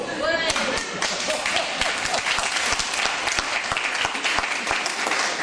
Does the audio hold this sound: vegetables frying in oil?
no